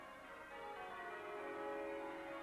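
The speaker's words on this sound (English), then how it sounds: "Here we can see the bell ringers ringing the bells of St Mary's." Large recast church bells of St Mary's, including a tenor bell of over 1,500 kilograms, rung by bell ringers; steady overlapping ringing tones hum continuously and loudly throughout, with no talk.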